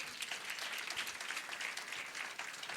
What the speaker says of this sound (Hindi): ताली बजाएंगे परमेश्वर के लिए